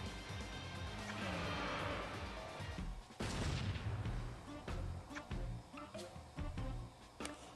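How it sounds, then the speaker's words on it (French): Fireworks at a summer festival in the video game Bleach Brave Souls burst in a series of booming pops and crackles over game music, with several loud bangs close together. "Ah, des feux d'artifice, splendide vraiment."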